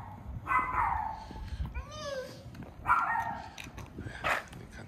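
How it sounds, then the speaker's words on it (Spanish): Pet dogs barking and yipping at home, several short barks and a whine-like yelp in a row, fairly close, mixed with household background noise and a voice nearby. "Los perros."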